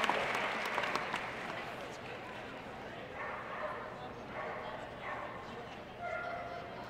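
At an agility championship final, an arena crowd applauds and cheers while a dog yips faintly in the mix and a commentator talks over the noise.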